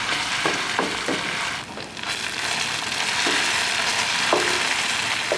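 Tomato paste fries and sticks in a hot pan for pasta, a loud continuous sizzle with a few soft scrapes of stirring cutting through now and then.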